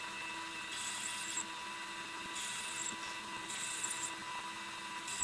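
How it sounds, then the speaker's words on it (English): An end mill cutting counterbores for cap head screws in a metal die filer part, a steady high whine with repeated brighter cutting passes, close and moderately quiet. "The only interesting bit are the counter bores, which I did with an end mill."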